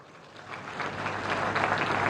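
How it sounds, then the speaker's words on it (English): Applause from an audience at a semiconductor industry event in Greater Noida, India, a faint, fairly distant wash of clapping that swells slightly over about two seconds, with no voices. "Please join me in welcoming them with a round of applause."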